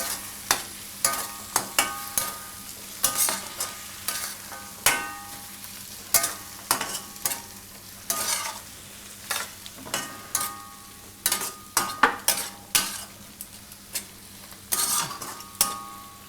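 Masala being stirred into a cauliflower and capsicum curry in a pan over low heat, in a Gujarati home kitchen: repeated scraping and clinking spoon strokes, steady and close, over a soft sizzle, with no talk.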